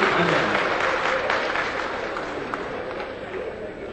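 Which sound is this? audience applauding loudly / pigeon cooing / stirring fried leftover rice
audience applauding loudly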